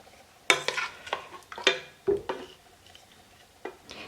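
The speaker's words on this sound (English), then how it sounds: "I'll scoop the mixture out of the pot and into my blender" A few scraping and clinking scoops of thick cooked apple mixture against a metal pot, spaced irregularly with quiet gaps between them.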